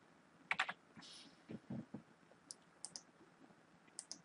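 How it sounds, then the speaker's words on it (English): Typing on a computer keyboard to enter a place name into a search bar: a few short bursts of key clicks, close and fairly quiet, with no speech. "So we will type New York City into the search bar."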